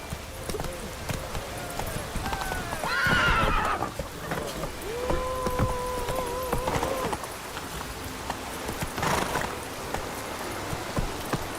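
Roach the horse neighs and whinnies in The Witcher 3, with clip-clop hooves galloping underneath a busy game soundscape, two clear whinny calls rising above the steady hoofbeats.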